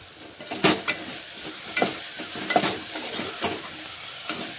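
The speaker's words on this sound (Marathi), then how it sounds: "आता घेऊ आपण छान असं मिक्स करून सगळं।" Masala khichdi ingredients with turmeric and salt being stirred in a pan, a soft sizzle under repeated scraping strokes of a spoon in an irregular rhythm, close and moderately loud.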